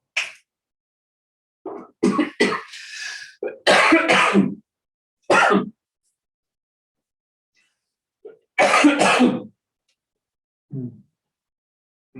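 Several separate coughs and throat-clearing bursts come in short clusters, close to the microphone, with silent gaps between them.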